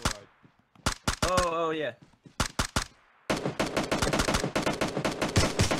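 Rapid bursts of automatic gunfire from a PUBG Mobile squad fight, loud and close, firing in short clusters before a sustained rattling stream, with a brief spoken exclamation among the shots.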